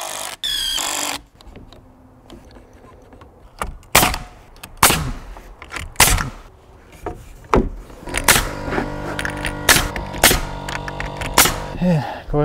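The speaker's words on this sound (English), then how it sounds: "this nail gun is making my life so much easier." A pneumatic nail gun drives nails into wooden window-wall framing, firing a series of sharp, loud bangs at irregular intervals amid workshop clatter and handling noise.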